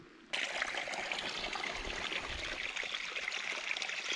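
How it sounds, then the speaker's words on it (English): Rain pours down steadily outdoors on a morning moose hunt in Newfoundland, starting abruptly as a dense, even hiss that continues without pause and without voices. "It's pouring this morning."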